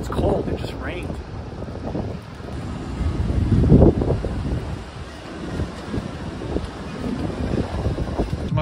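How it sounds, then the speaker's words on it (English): Strong, cold wind buffets the microphone outdoors just after rain, giving a heavy, gusting rumble that swells and eases throughout. "all of a sudden it got so windy, had to put my hat on, and it's cold, it just rained."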